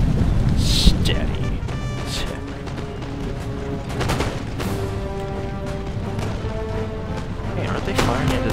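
Artillery fire in the Empire: Total War strategy game, rolling booms and cannon blasts layered over battle noise, dense and continuous, with a voice speaking over parts of it.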